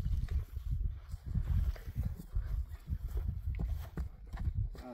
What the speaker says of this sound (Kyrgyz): Укам, сен ат токтотпой тегерет бастыра бересиң